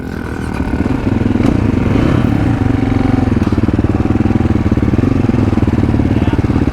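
Several motorcycles on a country ride rumble loudly at close range as they pull away together, their engines a continuous throbbing drone.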